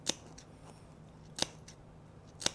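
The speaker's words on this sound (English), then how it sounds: "So I might clip the curves first and then trim the seam." Fabric scissors clipping seam curves on a sewn shoulder crossbody bag make three sharp, crisp snips spaced about a second apart, close and quiet in an otherwise still room.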